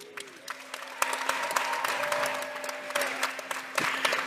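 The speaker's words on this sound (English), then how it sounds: "So let's give all of those connections a round of applause" Graduates and guests at a university commencement ceremony give a round of applause, a dense, steady clatter of many hands clapping that builds after the first second, with a faint sustained tone beneath.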